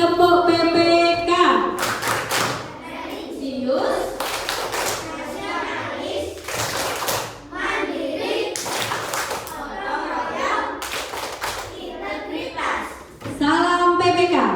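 A standing group in a teaching-practice classroom performs the rhythmic PPK clap chant, sharp bursts of unison hand claps set in a patterned beat, with chanted voices and talk throughout.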